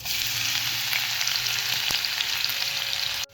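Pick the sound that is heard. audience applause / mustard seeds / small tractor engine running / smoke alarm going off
mustard seeds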